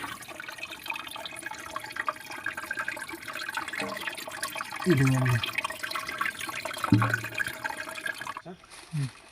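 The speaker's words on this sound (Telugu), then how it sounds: "వాటర్ సౌండ్ వినండి." Fresh spring water from a rock rushes steadily from a pipe in a constant gushing flow, with a few brief voices talking over it.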